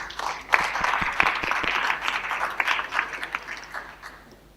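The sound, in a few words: audience applause at a conference talk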